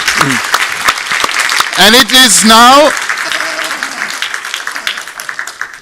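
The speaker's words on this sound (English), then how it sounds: "Another applause for President Lennartz" A symposium audience at a democracy and rule-of-law event in Stockholm breaks into applause for a president, a dense clatter of clapping that thins out toward the end while someone talks over it.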